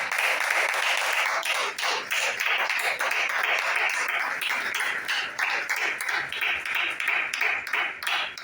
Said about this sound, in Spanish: Si le puede dar un aplauso a Cristo